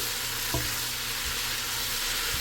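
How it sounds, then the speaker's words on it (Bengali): Cleaned beef tripe fries in a little oil with a constant close hiss, with a single spatula scrape early on and a softer one near the end, and no speech. "একটু তেলের মধ্যে একটু ভাজা ভাজা করে নিয়ে"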